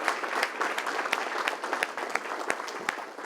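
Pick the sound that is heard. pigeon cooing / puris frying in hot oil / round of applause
round of applause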